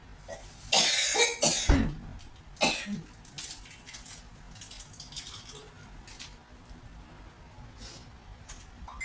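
Someone with a cough hacks close by in a home kitchen, a loud cluster of harsh coughs at the start followed by softer throat sounds and light kitchen clatter.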